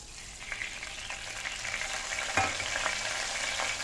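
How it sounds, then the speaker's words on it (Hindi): Oil heating in a karahi for chicken afghani karahi, reused from frying chicken, giving a steady close sizzle with light crackles and one sharp clink partway through. "अब कढ़ाई के अंदर ऑयल डालेंगे।"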